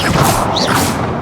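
A Confringo fire spell cast in the Hogwarts Legacy video game bursts as a loud, close, crashing blast that fills the whole short moment.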